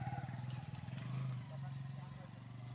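A motorcycle engine runs with a steady, close low drone while riding a rough plantation trail, with a voice talking over it.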